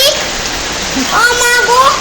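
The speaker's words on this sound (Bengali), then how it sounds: "দেখো বন্ধুরা, প্রচুর পরিমাণে বৃষ্টি হচ্ছে, মানে যেটা বলা যায় বাহিরে।" Heavy rain falling outside, a steady wash of rain noise throughout with a voice talking over it.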